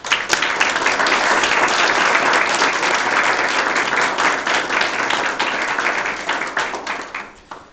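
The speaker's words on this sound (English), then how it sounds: "big round of applause" Loud sustained applause from a crowd at a school board meeting, dense clapping that continues steadily then fades away at the end.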